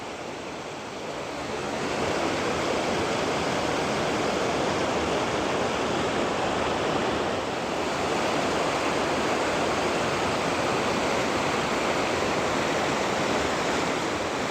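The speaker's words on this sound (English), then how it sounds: "Crossing Deer Creek right now." Deer Creek at Mt Rainier rushes steadily over rocks, a continuous broadband roar of flowing water heard up close. It swells after the first couple of seconds and holds, with no talking.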